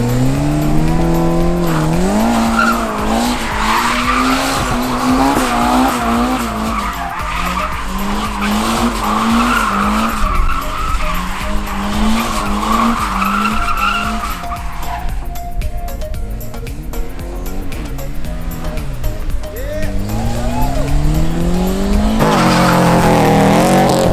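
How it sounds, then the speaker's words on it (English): Turbocharged Honda EK hatchback doing a tire burnout, a long loud screech of spinning tires over a revving engine, rising and falling in pitch, close and sustained throughout with a brief lull near the end. "He's gonna do one more burnout, run it down here."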